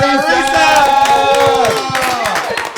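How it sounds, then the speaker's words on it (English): A live show audience cheers and whoops for Teresa, a girlfriend introduced on stage, with voices rising over scattered clapping in a loud, steady crowd roar. "big round of applause for Teresa!"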